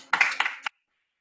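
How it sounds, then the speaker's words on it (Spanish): Brief burst of hand clapping from a small group at the close of a medical presentation on intubation and extubation in COVID-19 patients, lasting about half a second with a final clap, then silence. "Un aplauso acá"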